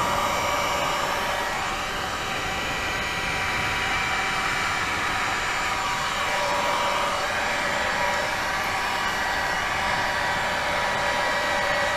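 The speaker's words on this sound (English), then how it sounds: "You can turn your heat gun down if you like, so that it doesn't dry out the alcohol that fast." A heat gun blows a steady, loud rush of air over alcohol ink and resin, a constant broadband hiss that holds unchanged for the whole stretch with no talk.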